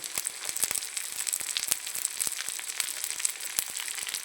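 Onion, carrot and cucumber sauté in a hot pan for an upma dish, a steady close sizzle and crackle broken by sharp ticks and scrapes, with no talking.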